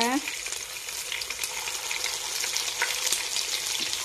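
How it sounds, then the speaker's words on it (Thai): Banana blossom and pork fritters bound with egg sizzle steadily in hot oil, a continuous close crackle and spatter with no break across the whole stretch. "เดี๋ยวเราจะเตรียมไปทอดแล้วนะคะ"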